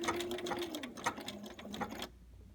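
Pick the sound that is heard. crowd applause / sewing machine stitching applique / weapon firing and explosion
sewing machine stitching applique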